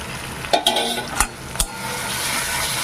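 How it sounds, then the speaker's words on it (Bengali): Ginger and cumin spice paste with turmeric sizzling in a pan for a green banana curry, a steady fry hiss broken by a few sharp scrapes and clicks of a spoon stirring. "আমি এবার মশলাটাকে একটু ভালো করে ভেজে দিব"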